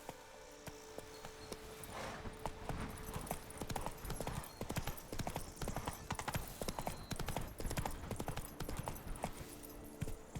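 Horse galloping in The Witcher 3: Wild Hunt game, a loud, fast, driving clip-clop of hooves close by, with a brief whinny and little talk.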